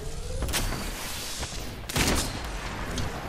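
Sharp, loud gunshots from sniper rifles crack in the Apex Legends battle royale game, two or three heavy reports spaced over a few seconds against a constant hiss of background battle noise.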